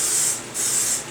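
A spray bottle gives two quick hissing spritzes onto a sausage casing, close and fairly loud with a brief gap between bursts, no talking.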